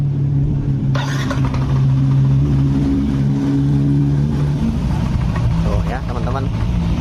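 A Yamaha Nmax scooter engine idles smoothly and steadily after being started, a close, continuous low hum with a speaking voice over it.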